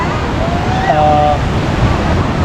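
Ocean surf rolling onto the beach at Boracay gives a loud, steady wash mixed with wind noise, and faint tonal sounds drift in briefly from the surroundings.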